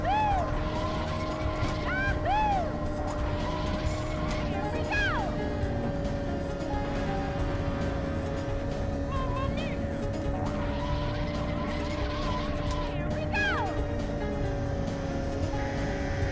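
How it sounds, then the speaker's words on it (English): Game-engine traffic of cars and trucks on a Mario Kart 64 race track, a steady droning engine bed with rising and falling pitch sweeps as vehicles pass, running continuously under the racing. "So many trucks and cars."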